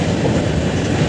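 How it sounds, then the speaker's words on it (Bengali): The Uttarbanga Express crosses the Dakshineswar Ganga bridge with a loud, continuous rumble and rolling clatter of wheels heard from on board. "তোমরা দেখতেই পাচ্ছ গঙ্গার ওপর দিয়ে এখন ট্রেন যাচ্ছে।"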